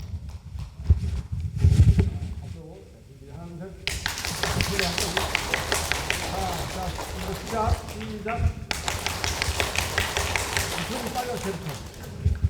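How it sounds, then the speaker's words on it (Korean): High school seniors clap as fast as they can for about three seconds at a career talk, a dense rapid patter of many hands after a spoken cue, with voices before it. "이 박수를 치는데 한 3초만 최대한 빨리 한번 쳐볼게요"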